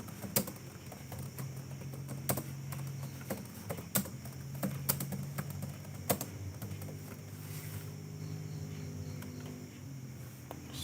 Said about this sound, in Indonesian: kita langsung ketik aja di sini